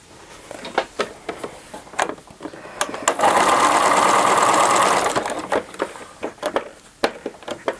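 A sewing machine runs steadily for about two seconds as it stitches fabric pieces together for an improv pieced basket, with handling clicks and taps before and after.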